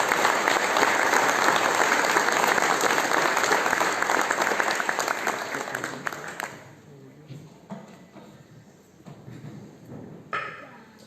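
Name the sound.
audience applause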